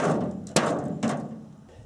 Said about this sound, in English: Here we're doing some body work with a claw hammer.